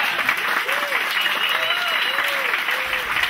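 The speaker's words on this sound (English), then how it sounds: "I would like a round of applause for the restaurant owners." Applause for restaurant owners at a community sustainable-fisheries forum in Montauk, a steady crowd clapping throughout with voices and cheers mixed in.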